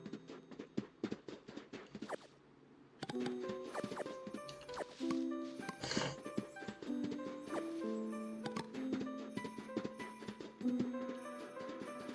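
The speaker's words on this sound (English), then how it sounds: "I didn't mean to hit you with my horse" Hooves clip-clop in a rhythmic run from a horse in a fantasy role-playing game, close and fairly quiet, with clicks and scattered game sounds around them.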